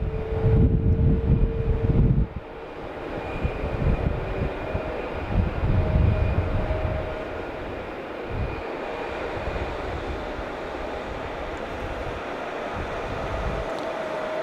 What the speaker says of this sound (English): So we got a JetBlue coming in here from Buffalo.